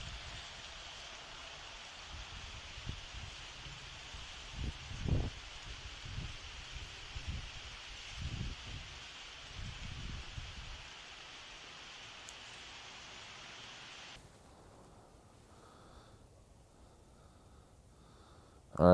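Wind blows through the trees around a woodland campsite with a fire, making a steady soft rush of rustling leaves with a few low bumps. The sound drops away sharply near the end, and no one speaks.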